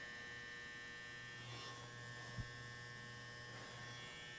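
An electric hair clipper cuts hair during a Leonardo DiCaprio Great Gatsby-style haircut, giving a faint, steady electric buzz with a low hum, no voices.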